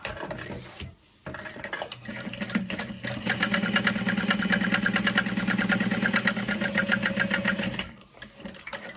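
A sewing machine runs a long steady seam around a box on a backpack at a 4.5 stitch length, its motor hum and fast needle chatter close and continuous for about six seconds between quieter handling noise.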